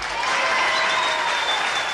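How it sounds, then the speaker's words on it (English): A brief, dense burst of audience applause from a congregation gathering, a steady wash of many hands clapping at once, close and fairly loud. "the applause is going to be twice that, Henry"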